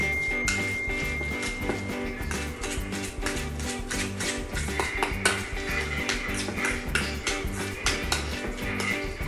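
Fish mashed with cheese in a bowl, a utensil tapping and scraping against the bowl in quick, irregular strokes, close by and continuous over a faint hum.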